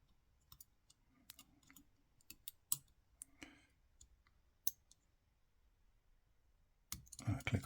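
A Lishi 2-in-1 lock pick works the pins inside a lock, giving faint, sparse small clicks and ticks close up at irregular intervals, ending in a louder rustle of handling.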